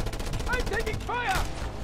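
Gunfire in the Just Cause 2 video game, a dense rattle of shots running steadily through the whole stretch with sweeping tonal effects layered over it, loud and continuous without a break.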